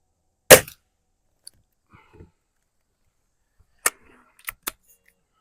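A Cometa Fenix 400 compact air rifle fired at an outdoor range, one sharp crack followed seconds later by a few smaller pops and clicks, with quiet between shots.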